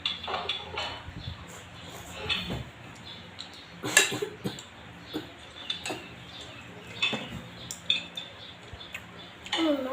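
A metal spoon scoops rice from a dish, giving scattered clinks and scrapes at irregular intervals. Some taps are sharper and closer, with faint background sounds between them.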